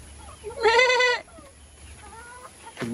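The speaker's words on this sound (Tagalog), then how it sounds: "Ito naman yung kambing mga kabayan dahil maaga pa." A goat on a farm gives one loud, close bleat lasting about half a second, followed by fainter animal calls and rustling in a quiet outdoor setting.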